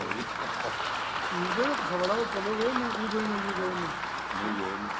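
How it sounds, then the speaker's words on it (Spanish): Moderate audience applause follows a hospitality industry presentation at a recognition ceremony; continuous clapping fills the room while a voice talks over it. "Vamos a darles un fuerte aplauso, por favor."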